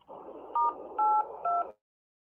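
Telephone conference line keypad tones, three short DTMF beeps at different pitches pressed in quick succession over a steady line noise that cuts off abruptly.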